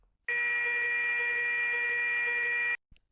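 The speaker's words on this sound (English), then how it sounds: "an audible buzzer is activated at the gate lodge to alert the gateman" Audible buzzer at a railway level crossing gate lodge sounds as one loud, steady electronic tone lasting about two and a half seconds, cutting off sharply, followed by a brief faint click.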